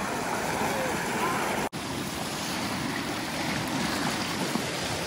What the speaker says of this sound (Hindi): ये देखो मस्त पानी चल गया है।